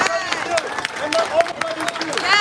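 Crowd at a protest rally against brutality applauds and cheers, a dense burst of clapping with shouted voices mixed in, loud and close throughout.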